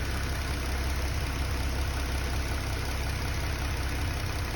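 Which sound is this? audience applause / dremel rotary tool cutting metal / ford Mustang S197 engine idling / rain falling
ford Mustang S197 engine idling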